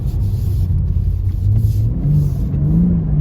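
Engine of a rental car held low in third or fourth gear while driving on an ice track, a steady, loud low rumble with revs rising gently toward the end, no talk over it.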